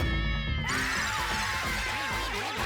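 A cat meows in a drawn-out, wavering cry inside a tense comedy scene, the call rising and bending near and clear over a bed of eerie background music and effects, with no talking.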